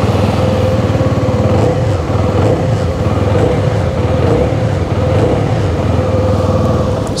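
A CFMOTO NK 250 naked sports motorcycle with an underbelly exhaust revs steadily, its deep engine note loud and close with a throbbing low pulse held for several seconds, no voices over it.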